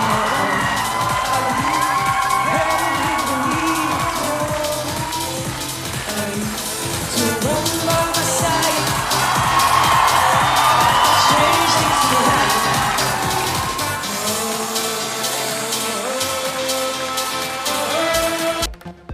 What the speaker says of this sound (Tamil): அங்கு கூடியிருந்த பல்லாயிரக்கணக்கான மக்கள் கைத்தட்டி